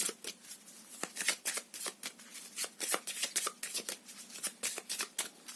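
A deck of tarot cards being shuffled by hand, with quick, repeated papery riffles and slaps in an irregular rhythm, close and fairly loud, with no talking.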